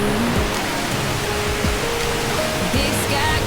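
A small waterfall on McDonald Creek in Glacier National Park pours in a steady, dense broadband rush, continuous and fairly close, with no voices.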